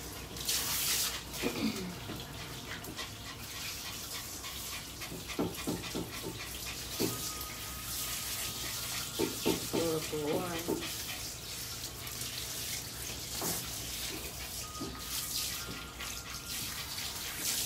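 Tap water runs steadily while a dog is bathed before a poodle-cross haircut, a continuous wash of splashing with small knocks and clatters throughout.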